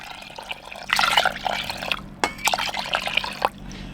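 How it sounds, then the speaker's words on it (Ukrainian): Water splashes and gurgles as it pours into a pot of peas in two separate bursts, each lasting about a second. "Наливаємо 6 чашок води,"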